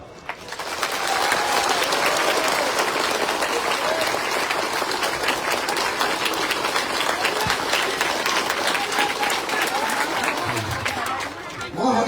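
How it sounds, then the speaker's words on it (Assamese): Applause from an audience at an outdoor election campaign rally in Gauripur, Assam: dense, sustained clapping that carries steadily for about eleven seconds and then tapers near the end, with some crowd noise mixed in. "আপোনালোকে হাত তালি বজাই সকলোৱে আমাক আশীৰ্বাদ দিব"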